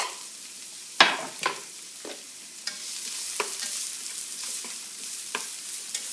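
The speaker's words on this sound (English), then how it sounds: "Normally we just put onions in, saute." Onions and jalapenos sauté in a pan for ground beef gravy, a steady close sizzle broken by several sharp scrapes and stirs of a utensil against the pan, with no talking.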